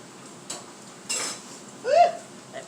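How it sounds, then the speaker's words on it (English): Bacon is turned in a frying pan with a utensil, giving a few sparse metallic clinks and scrapes over a low, steady background hiss, with a short voiced sound near the end. "let me turn this bacon"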